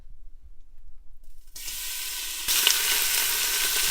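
Bacon hits a stock pot over medium-high heat and starts to fry, a quiet stretch giving way to a bright, hissing sizzle that grows louder and holds steady after a soft clatter.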